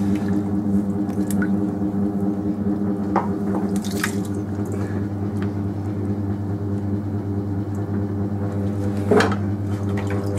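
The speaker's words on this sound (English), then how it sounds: "Get the old water mopped out again as usual." Wet squishing and light sloshing as a sponge soaks up leftover water from inside a clay pot on a pottery wheel, close and steady over a constant low motor hum, with a sharper squeeze near the end.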